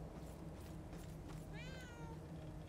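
A cat meows once in the video game Murdered: Soul Suspect, a short wavering cry rising out of a steady low background hum.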